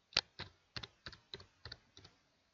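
Keys clicking on a computer keyboard in AutoCAD 2016 as a style name is typed, about eight crisp, evenly spaced taps, close and fairly quiet with no talking.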